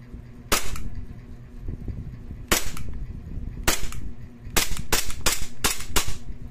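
E&C Glock 17 Gen5 airsoft pistol firing nearby, sharp cracking shots, single and then in a quick string of four or five, over faint background noise, with no talk.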